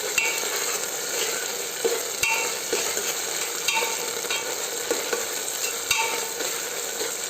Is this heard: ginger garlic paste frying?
yes